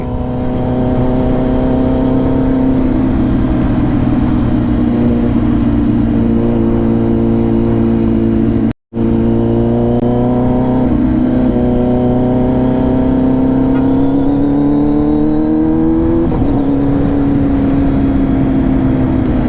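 A Kawasaki Z900 motorcycle fitted with a LeoVince full exhaust drones loudly and steadily as it rides on a cold day, its engine note rising and falling in pitch, with one brief cut near the middle.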